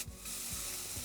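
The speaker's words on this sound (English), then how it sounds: "Stir that in." Spices stirred into softening onions in a pan for butter tofu, a short burst of quiet sizzling with a couple of soft scrapes of the spoon, close and low.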